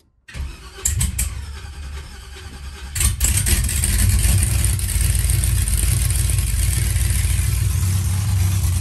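A cold truck engine cranks a few times before catching, then roars up into a loud, rough rev and keeps running close by.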